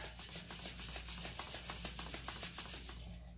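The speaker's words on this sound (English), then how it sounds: "Scrub it with my hand." Rubber stamp scrubbed by hand on a wet scrubbing mat, a quiet rhythmic rubbing of about a dozen quick strokes, close and faint.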